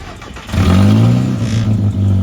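A modified car's loud, rough engine rumbles at close range with a choppy, uneven idle, its low note lurching slightly.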